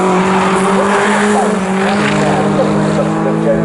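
An MG Trophy race car accelerates on the Snetterton circuit, throwing a little smoke from the front. The engine is loud and sustained, with a steady droning note and a commentator talking over it.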